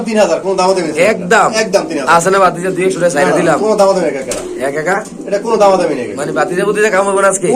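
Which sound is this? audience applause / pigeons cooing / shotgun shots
pigeons cooing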